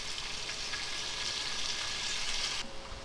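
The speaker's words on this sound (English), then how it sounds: "we're just gonna fry up the onions and tomato just a bit" Onions and tomato fry in a pan over a low flame, a steady close sizzle with faint crackles that drops off abruptly near the end.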